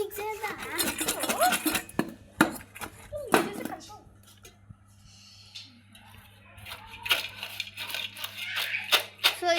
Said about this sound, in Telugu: సో ఇట్లా మిక్స్ చేస్తున్నాం అన్నమాట.